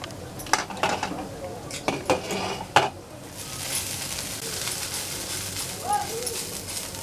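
A metal lid clinks and scrapes off a pan of thinly sliced bitter gourd cooking over a medium flame, several sharp knocks followed by a steady, soft sizzle.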